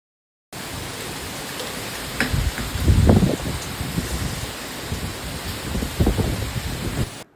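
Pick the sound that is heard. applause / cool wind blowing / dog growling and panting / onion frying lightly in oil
cool wind blowing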